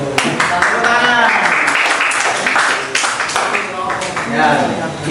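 Applause and clapping from a class after a group presentation, mixed with loud overlapping voices of students talking throughout.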